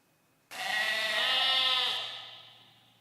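A single sheep gives one long, loud bleat close by, wavering for about a second and a half before trailing off, with no talk.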